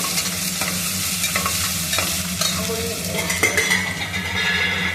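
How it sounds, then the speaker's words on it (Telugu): Cashews and ginger paste fry in hot oil while a spoon scrapes and stirs the pan, a continuous sizzle with repeated clinks and scraping of metal on the pot, close and clear. "జీడిపప్పు వేసింది చూసావా, ఇది కొంచెం పచ్చి వాసన పోగానే కొంచెం అల్లం పేస్ట్ దీంట్లోనే"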